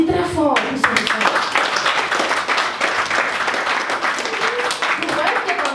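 A children's audience at a Sunday school gathering claps loudly in a dense, continuous burst. Cheering voices and speech mix in at the start and end.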